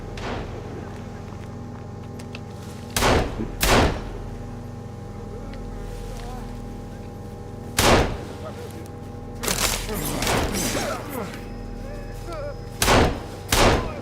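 Heavy gunshots crack out in the survival video game Sons of the Forest, several single and double reports spaced over a steady low hum, while players talk.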